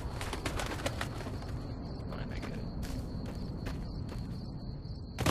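A bird coos in the video game Fallout: New Vegas, soft repeated calls under a steady ambient rumble, with faint footsteps and no talking.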